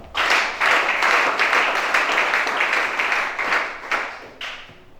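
A church congregation applauds steadily through a dense, sustained burst of clapping that tapers slightly toward the end, with a few louder claps standing out near the close.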